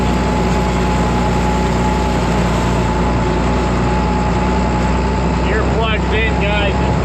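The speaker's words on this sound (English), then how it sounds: "this tractor snorts" A John Deere 4430 tractor pulling a big rake over a 70-acre hayfield drones steadily and close by at a constant pitch, with a brief voice near the end.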